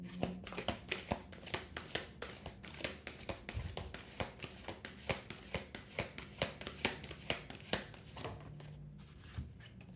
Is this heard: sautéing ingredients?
no